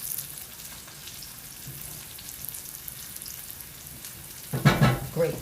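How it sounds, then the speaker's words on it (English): Garlic and shallots frying in a hot pan give a soft, continuous sizzle, with a sudden louder crackling burst near the end as if stirred. "My garlic and my shallots. Beautifully sizzling."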